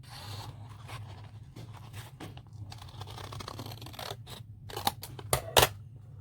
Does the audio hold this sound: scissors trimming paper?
yes